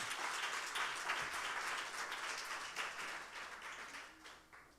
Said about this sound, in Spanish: Dale un aplauso a Cristo en este momento.